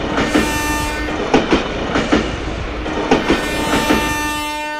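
The Kuranda Scenic Railway heritage train in Queensland, Australia rolls past loudly, with a rhythmic clickety-clack of wheels over rail joints beneath a sustained tonal horn-like squeal.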